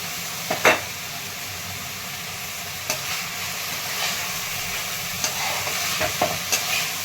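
Roasted peanut powder being stirred into spring onion curry frying in a pan, a steady soft sizzle with a few sharp spoon scrapes against the pan, close and alone with no talk.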